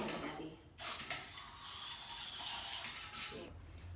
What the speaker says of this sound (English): Diaper spray definitely comes in handy.